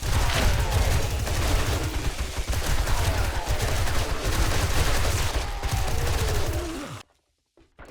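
Sustained machine gun fire in the survival game 7 Days to Die rattles continuously for about seven seconds, loud and dense with overlapping shots and impacts, then cuts abruptly to silence.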